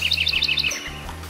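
A house wren (curruíra) chirps a rapid run of about nine high, bright notes in quick succession, close and clear, before trailing off into faint background sound.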